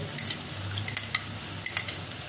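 A spoon stirs cornflour into water in a small bowl for an egg chilli sauce, making a run of light, irregular clinks and taps close by over a soft background hiss.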